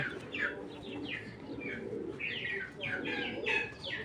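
Several racing pigeons coo and warble in soft, overlapping calls close by, with faint chirps and a steady low background murmur.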